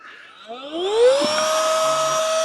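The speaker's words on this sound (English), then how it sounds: "I've now set this to 7 psi for the drop stitch floor. So I'll start this." An Airbank Puffer Pro electric pump inflating a drop-stitch floor starts up with a rising whine and settles into a loud, steady motor drone with a high tonal hum, close by, with no talking.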